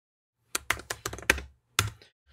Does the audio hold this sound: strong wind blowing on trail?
no